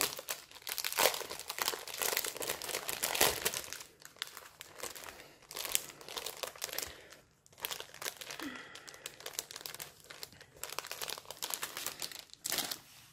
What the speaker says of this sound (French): je vais essayer d'ouvrir le sachet pour vous montrer un petit peu les couleurs de diamant